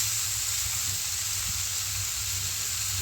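Mango for a preserved mango jelly being stirred with chilli, five-spice, ghee, bay leaf and salt, giving a steady, even hiss and sizzle throughout with no talk.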